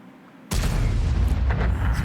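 An artillery shell strikes in World of Tanks: a sudden heavy boom that rolls into a long, loud, rumbling blast with crackling debris.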